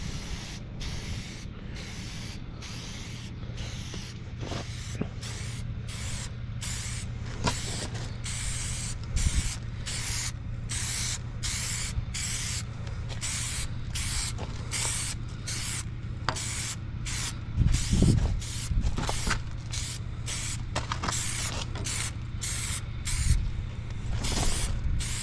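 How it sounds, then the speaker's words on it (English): John Deere green spray paint hisses from an aerosol can in short, regular bursts with brief gaps between them, close and steady over a low background hum, with no talking. "2 cans of John Deere green spray paint"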